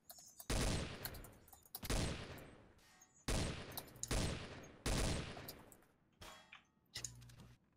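Video game gunfire goes off in a run of loud, close single shots roughly one second apart, with a couple of softer pops at the end and no voices.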